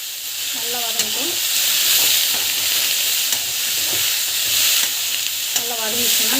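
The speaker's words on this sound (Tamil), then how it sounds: "வெண்டைக்காய் வந்து போட்டுடலாம். நல்லா வந்து வதக்கணும்." Okra (vendakkai) sautés with salt in a pan, giving a loud, continuous sizzle and hiss with scraping stirring strokes, while a voice briefly speaks over it near the start and end.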